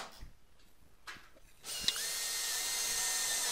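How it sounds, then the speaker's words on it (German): Cordless screwdriver driving 4x20 Torx screws to fasten a tabletop onto an electric height-adjustable desk frame, a few quiet clicks and handling knocks, then a loud sustained motor whir with rising whine as the screw bites in. "Jetzt wird noch die Platte angeschraubt."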